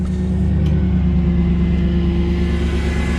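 A 1996-1998 Chevy/GMC C/K1500 truck engine idles steadily just after starting, a loud, close, even rumble with a constant low hum and no voices.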